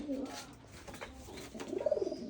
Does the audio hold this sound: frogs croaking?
no